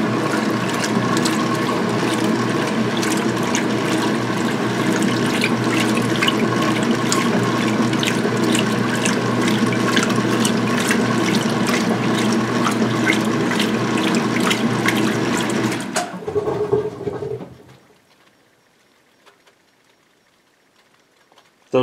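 A washing machine runs its spin drain at high speed with a loud, steady mechanical whir and churning water that holds for about sixteen seconds. It then winds down abruptly into near silence.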